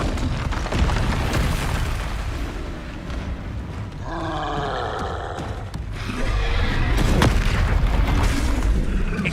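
A Confringo blasting spell erupts in Hogwarts Legacy combat, a heavy rumbling boom followed by a crackling magical burst, with grunts and scuffling layered through the dense low-end roar.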